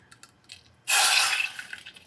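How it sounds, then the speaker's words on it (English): Rum poured into a cake mixture for a Caribbean-style rum cake: a steady liquid stream starts abruptly partway through, runs loud and close for about half a second, then tapers off into splashy drips. "I'm gonna put a tiny, tiny bit of this rum"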